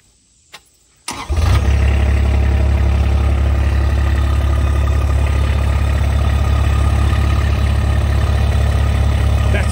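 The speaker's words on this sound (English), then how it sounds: "Let me start this engine, listen to this." Kubota RTV X1140 utility vehicle with a diesel engine cranks and fires up after a brief click, then settles into a loud, steady, close idle with a deep rumbling hum.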